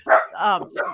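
A dog barks indoors in a 1920 Hollywood Hills bungalow, giving a quick series of two or three close, sharp barks and yips within one second.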